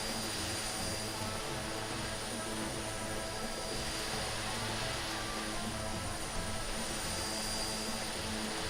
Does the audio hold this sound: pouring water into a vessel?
no